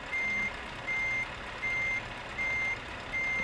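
Scania 730S truck in Euro Truck Simulator 2 sounding its reversing alarm: five steady, evenly spaced beeps over a low idling engine rumble, with no talk.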